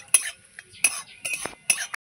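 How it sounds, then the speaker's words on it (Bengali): A spoon stirs cinnamon, two cloves and two cardamom pods in a cooking pan for pulao, giving four short clinking scrapes close by with quiet gaps between and a faint sizzle. "দিয়ে ভালো করে একটু নাড়বো"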